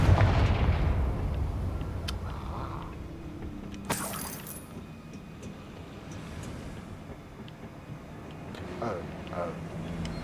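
A Confringo fire spell in the video game Hogwarts Legacy sets off a loud booming blast at the start, followed by a sharp burst and fainter rumbling impacts, with a person speaking over the game sounds.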